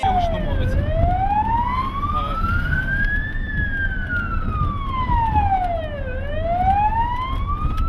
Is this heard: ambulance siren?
yes